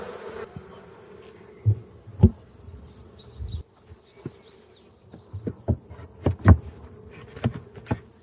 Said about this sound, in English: I really want the bees to get off of the side of the box so I don't squish 100 of them.